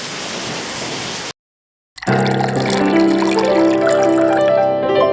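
Rain falling outdoors on a rainy day, a steady hiss of drops for over a second, then a short silence before a louder, busier stretch of sound with tonal layers.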